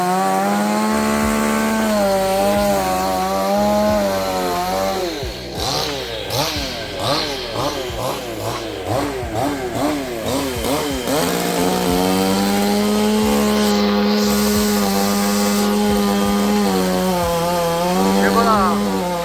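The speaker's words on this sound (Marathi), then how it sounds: "मशीनने त्या माडाला खाप मारतायत" A chainsaw cuts a felling notch into a tall coconut palm trunk, its engine idling and then revving hard in rapid surges while sawing before settling back to a steady whine, with voices now and then.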